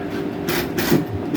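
A HUPENG intelligent brushless controller drives a brushless motor running anti-clockwise, giving a steady mechanical whir with a faint tonal hum and a few light clicks and rattles, close and alone with no talking.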